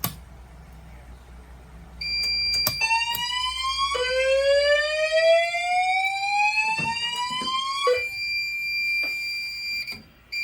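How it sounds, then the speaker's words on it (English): A Potter PFC 4064 fire alarm system sounds during a full alarm test, loud and close, with rising sweep tones and sharp horn blasts in a repeating cycle after a quiet start. "Now we're going to go ahead and do a full alarm test by activating the simplex key switch."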